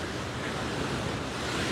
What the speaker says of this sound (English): it's not the waves you have to worry about. It's the surge of the water coming in and out.